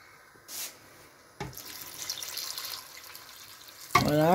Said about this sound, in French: Je reviens vérifier pour rajouter un tout petit peu d'eau aussi et avec le piment.